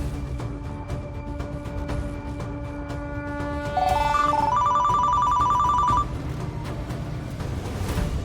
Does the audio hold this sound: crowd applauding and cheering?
no